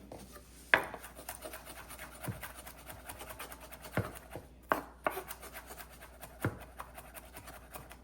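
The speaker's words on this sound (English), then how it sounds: "And chopping it into very fine portions." A knife chops okra on a cutting board in a few sharp, separated strikes, with softer scraping and rubbing sounds between them, close by.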